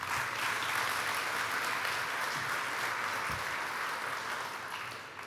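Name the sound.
audience applause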